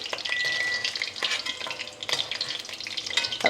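Ginger and curry leaves fry in hot oil for a Baccaurea pickle in a village kitchen, a loud, close, crackling sizzle that continues throughout with stirring scrapes and pops, no voices.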